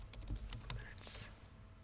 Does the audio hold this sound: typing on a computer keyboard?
yes